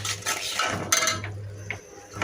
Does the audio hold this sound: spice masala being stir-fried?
yes